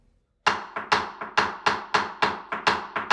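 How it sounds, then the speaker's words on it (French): Wooden tibwa sticks struck in a Gran Bèlè drum rhythm, a steady run of sharp, bright clacks in quick uneven pairs, close and loud after a short silent start. "Donc là, on est parti avec le tibois."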